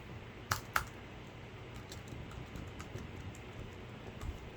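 Faint computer keyboard key presses while entering text, with two sharper clicks near the start followed by sparse, soft taps in a quiet room and no talking.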